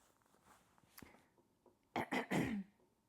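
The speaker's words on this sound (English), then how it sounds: "I had to clear my throat because the hot sauce is tickling back there" A person clears their throat from a hot sauce tickle, a few quiet rasps followed by three loud, gruff, close bursts.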